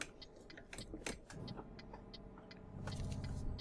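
Faint truck engine hum in Euro Truck Simulator 2, steady underneath rhythmic ticking like an indicator, with the rumble swelling slightly toward the end.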